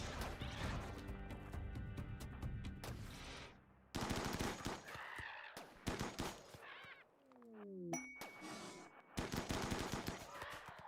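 Rapid bursts of gunfire and crashing impacts from a fight against mechs in a Biotech Sanguophage game session, choppy and layered with music, several loud volleys broken by brief lulls and odd electronic sweeps.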